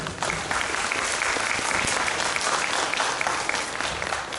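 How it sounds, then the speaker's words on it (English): Dense, steady applause from an audience at a children's storytelling contest, sustained and fairly loud throughout with no talk over it. "So let's give you a round of applause"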